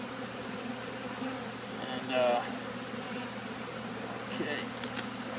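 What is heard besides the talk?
honey bees buzzing around comb in bay window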